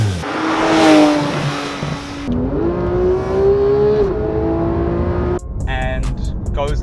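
The 3.8-litre flat-six of a 2015 Porsche 911 991 GT3 revs hard and close, its rising engine note climbing through gears before cutting off abruptly; a person talks over it.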